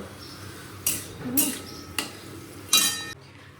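A metal spoon scrapes and clinks against a pan while panch phoron spices are fried for tomato chutney, giving four sharp, separate clanks over a soft background hiss.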